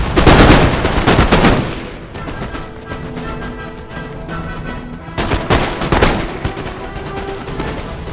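Massed musket volleys crack out in a loud opening burst of dense overlapping shots in the Empire: Total War strategy game, then scattered firing continues over sustained tones, with a second heavy volley swelling later.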